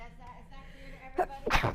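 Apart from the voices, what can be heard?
sneeze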